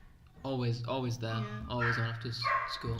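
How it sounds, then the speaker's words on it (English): A squeaky border collie next door yips and barks in quick high-pitched bursts, mixed under someone talking over it. "It's a beautiful border collie, but it's very squeaky."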